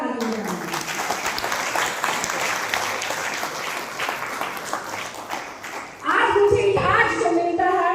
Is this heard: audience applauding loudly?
yes